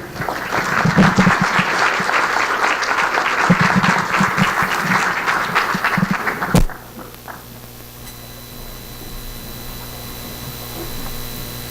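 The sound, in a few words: audience applause for a keynote speaker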